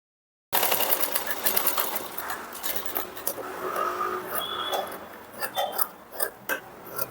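A sewing machine runs steadily, joining a blouse lining to the main fabric for a princess-cut blouse, with a long stitch setting. The motor whirs continuously at moderate volume, easing off and pulsing near the end.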